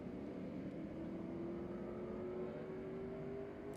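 Race cars accelerating off the start of an SVRA Group 10 vintage race at Circuit of the Americas, a steady dense engine roar with a rising whine, fairly distant and sustained throughout.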